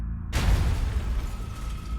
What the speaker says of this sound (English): The bomber heard a loud bang and saw the roof of Gary's car go flying into the air.